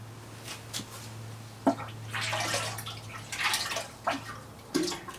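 Detergent pours and splashes into a pot of water for scouring fabric in several bursts, with soft drips and gurgles between them, close by.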